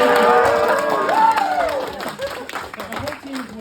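Comedy show audience applauding and cheering, a dense wash of clapping and whoops that fades over a few seconds while a voice speaks over it.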